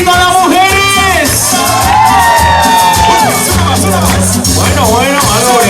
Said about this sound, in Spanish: ¿Dónde están las mujeres? ¡Su grito a las mujeres!